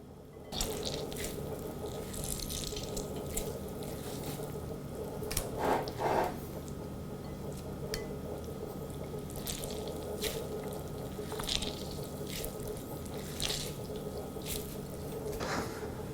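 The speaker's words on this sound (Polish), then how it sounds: "Najpierw musimy odcisnąć kapustę, ale nie wylewamy soku z kapusty" Squeezing sauerkraut by hand to press out its juice, giving soft wet squishes and trickling drips of liquid repeated through the clip, close and fairly quiet over a low steady background hum.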